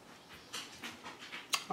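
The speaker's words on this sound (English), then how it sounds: "If you hear my dogs in the background, they're just a little restless." A dog pants in quick, soft breathy bursts nearby, with a faint whimper near the end; quiet and rhythmic.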